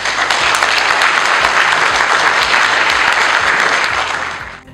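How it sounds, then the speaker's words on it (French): Sustained, loud applause from a lecture audience fills the room for nearly five seconds, dense and even throughout, then tapers off at the end. "tonnerre d'applaudissements"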